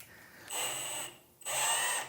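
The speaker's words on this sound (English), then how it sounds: "we're gonna do a pilot first, and then we're gonna hit it with the bigger drill bit" A power drill whines in two high-pitched bursts separated by a brief pause, close and loud, drilling a pilot hole for a spare tire carrier.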